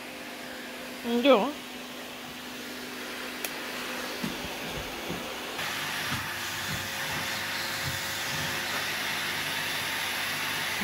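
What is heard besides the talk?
vacuum cleaner running on carpet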